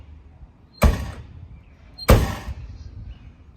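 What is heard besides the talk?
classic Ford Mustang trunk lid slammed shut repeatedly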